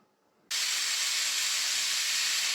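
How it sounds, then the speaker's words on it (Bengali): A pressure cooker on the stove suddenly lets out a loud, steady, close rush of hissing steam that starts abruptly and holds without a break. "দেব জল প્রেশার কুকার দেখো আমি বসিয়ে দিয়েছি এবার আমি একটা সিটি দেব"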